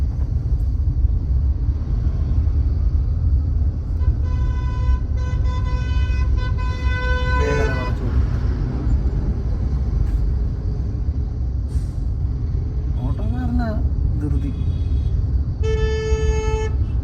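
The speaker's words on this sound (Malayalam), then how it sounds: "ഹോൺ അടിക്കുക" A car horn honks several times during a driving lesson, with a long blast followed by shorter toots, all over a loud, constant road and engine rumble inside the moving car.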